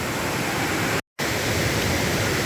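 Waterfall by a river, a steady loud rush of falling water, close and continuous, with a brief drop to silence partway through.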